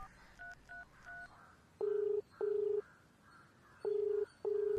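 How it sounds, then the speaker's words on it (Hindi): A phone is dialed: a quick run of short keypad beeps, then four longer, loud steady tones in two pairs, with no talking. "फोन करके देखता हूँ।"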